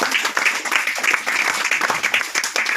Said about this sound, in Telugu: చప్పట్లు గట్టిగా కొట్టి స్తోత్రం చేద్దాం.